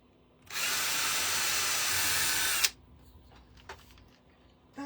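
Power drill boring into a wooden angel shelf sitter, a steady close whine lasting about two seconds before stopping, followed by faint handling clicks and rustles.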